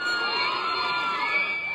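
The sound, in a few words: fans screaming at a movie premiere in a mall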